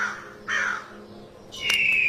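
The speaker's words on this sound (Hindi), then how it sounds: "कालू कौवा वहाँ से चला जाता है।" A crow caws twice, harsh and moderately loud, the second call longer and drawn out, against a quiet background.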